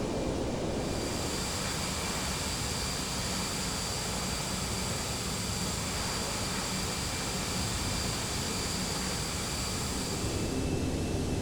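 A DC-8 airliner cruises in Flight Simulator X on a winter flight to Toronto, its engines and airflow a steady, loud broadband roar with a faint high whine that holds unchanged throughout, no voices.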